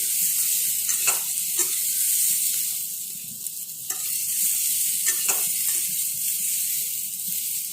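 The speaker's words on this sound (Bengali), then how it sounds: "এখন আলু সেদ্ধ করা আলুগুলি এখানে দিয়ে দিচ্ছি। আলুগুলি ভালো করে ভেজে নেব।" Boiled potatoes frying in a pan for kofta curry, a steady hissing sizzle with occasional stirring scrapes and small clinks, close and fairly loud with no talking.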